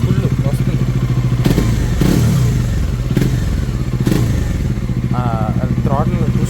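A Bajaj Dominar 400 fitted with a BMC air filter idles up close with a steady, even thumping beat. A few louder knocks and someone speaking are heard over it.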